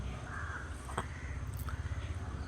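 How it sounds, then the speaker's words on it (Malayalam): Crows caw repeatedly in a jackfruit tree heavy with fruit, with harsh calls rising over a steady outdoor background and a few closer, louder caws near the end. "കിളികൾ കണ്ണാൻ ഇപ്പം കാക്ക വന്നപ്പോൾ കിളികളൊക്കെ പോയി."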